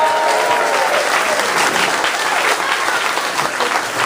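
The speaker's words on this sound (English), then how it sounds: "How about another big round of applause for the best lieutenant governor in the country, Boyd Rutherford." A large crowd applauds loudly and steadily for the lieutenant governor at a lively gathering, dense clapping filling the whole stretch without a break.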